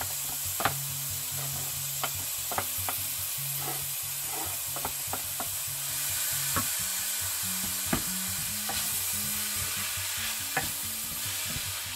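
Purslane greens sauté in a hot pan with a steady close-up sizzle and hiss, while a utensil stirs and taps against the pan at irregular intervals.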